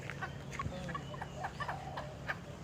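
Young rooster on a Thai garden farm clucking in short repeated calls amid steady outdoor background noise, moderately close.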